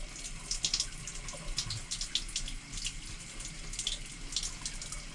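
Water runs from a tap to rinse clogged paint out of a bucket, a steady stream spattering and splashing with bursts of sloshing, fairly quiet and close.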